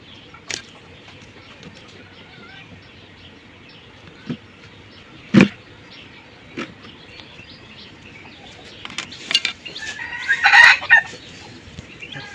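Scattered clucks and calls from chickens and chicks on a rooftop garden, with quiet gaps between them, building to a louder cluster of calls near the end.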